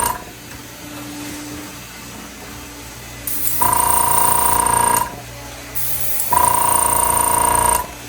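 An airbrush set to 25 psi sprays in two steady hissing bursts of about one and a half seconds each, over a low background hum of the compressor.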